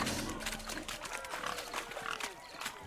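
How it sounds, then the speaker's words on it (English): Pig squeals and grunts in The Witcher 3 during a greased-pig-catching contest, a short close burst of squealing over a crowd-like background murmur. "Look at the fools falling over themselves to catch a painted pig."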